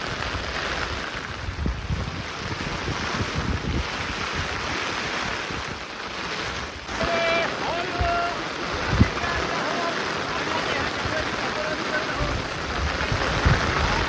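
Heavy monsoon rain drums steadily on an umbrella in a Konkan forest, a dense close-up patter with gusts of wind noise, while people talk beneath it.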